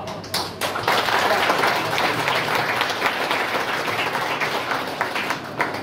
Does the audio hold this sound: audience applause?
yes